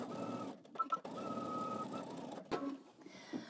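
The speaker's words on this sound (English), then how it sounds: "using a long stitch, you're just going to baste along the other edge" A sewing machine runs steadily, basting a long stitch along a fabric edge for a pocket, with a soft continuous whir and a couple of brief pauses.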